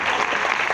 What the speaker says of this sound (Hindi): इतनी ताली अपने लिए तो बजाइए ना